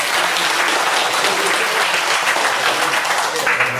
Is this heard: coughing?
no